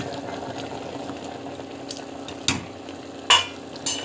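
Mutton gravy bubbles steadily in a pot, making a low, continuous simmer. A few sharp clinks of a utensil against the pot cut through near the end.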